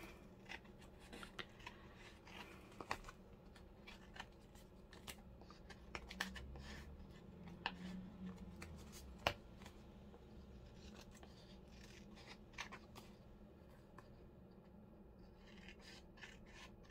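Scissors snipping paper for a junk journal made from an altered file folder, a series of quick crisp cuts and rustling paper handling up close, with a few sharper clicks.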